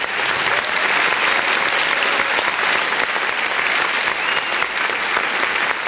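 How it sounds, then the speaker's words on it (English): A live podcast audience celebrating a 100th episode with special guests, sustained loud applause from a large crowd filling the room, dense continuous clapping with no break for nearly six seconds. "that applause is pretty long"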